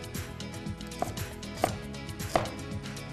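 Ginger being finely chopped with a knife, three distinct board knocks spaced about half a second apart over a faint humming background.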